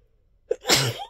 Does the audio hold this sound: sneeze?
yes